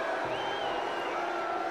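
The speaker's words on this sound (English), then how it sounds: "listen to this crowd" A live lucha libre wrestling crowd at a WCW event roars in a dense, continuous wash of cheering and shouting, loud and sustained throughout, with a rising whoop in the middle.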